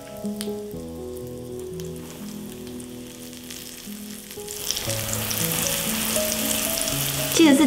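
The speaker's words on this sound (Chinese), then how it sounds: "那每一面呢，大概煎个5到6分钟。" English muffins frying in ghee in a pan give a soft sizzle under background music, swelling into a louder, rain-like crackle in the second half.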